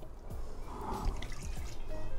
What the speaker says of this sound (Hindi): और फिर इसमें मैं 1/2 कप जो है और पानी ऐड कर दूंगी,